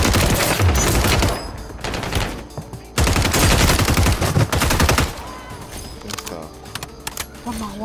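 Bursts of automatic gunfire from the battle-royale video game Warzone Resurgence, loud and rapid in dense volleys for the first five seconds, then thinning to scattered shots under quieter game ambience, with a voice talking over it.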